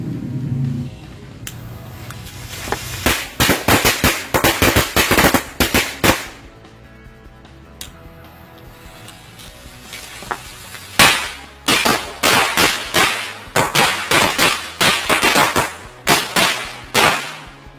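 Rapid bursts of Superior Lighting firecrackers popping in two long crackling volleys, sharp and loud, separated by a brief lull.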